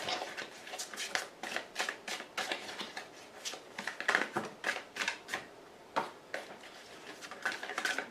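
Tarot or oracle cards being shuffled close up in a riffling, irregular pattern of crisp papery bursts, with no talking over them.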